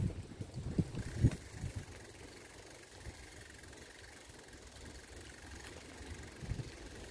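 A car engine hums low and steady at a cemetery in Tula as the car drives back, faint and even throughout, with a few soft knocks near the start.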